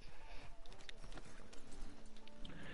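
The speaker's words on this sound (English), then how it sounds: "Get on your horse." Horse hooves clip-clop steadily at a brisk rhythm while riding in the Red Dead Redemption video game, dense and continuous with background game sounds and no talking.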